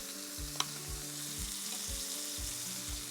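Butter sizzling in a hot pan beside steak for steak Diane, a soft, steady frying hiss with a single sharp click early on and no one speaking.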